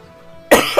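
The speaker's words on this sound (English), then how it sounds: "Sorry, I had to cough it up there." A single close, loud cough bursts out after half a second of quiet background hum, with a second smaller push of breath right after.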